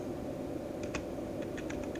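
Fingers tap out a short command on a computer keyboard, a handful of light, quick keystrokes over a steady background hum, fairly faint.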